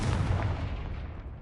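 The Confringo fire spell cast in Hogwarts Legacy, fighting poachers: a loud, booming blast that hits at once, then rolls and fades over about a second, with no voices.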